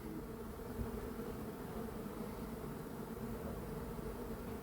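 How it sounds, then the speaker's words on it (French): A huge swarm of honeybees, a runaway swarm being collected near Ozoir-la-Ferrière, fills the air with a steady, dense, continuous buzzing drone heard close and unbroken, with no voices. "Il est énorme cet essaim."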